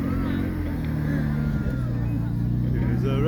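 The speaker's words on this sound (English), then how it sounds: "It's a rev." A car engine at an outdoor car show holds a steady, throaty rumble, its pitch rising and falling slightly as it revs, while people talk nearby.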